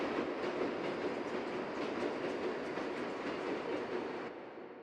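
A New York subway train on the Brooklyn JMZ line rumbles along in a loud, continuous roar with faint rhythmic wheel clatter, easing slightly at the very end, with no voices.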